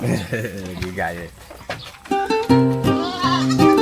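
Young bucks, ten months old, bleat in several loud, wavering calls close by, overlapping one another, with someone speaking between and under them.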